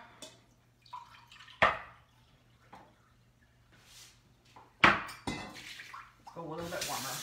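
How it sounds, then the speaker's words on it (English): Warm water runs from a kitchen tap into a cup while bread is being made, giving a soft steady trickle with a couple of sharp clinks of the cup, and a voice speaking quietly in between. "So I'm going to pour out a cup."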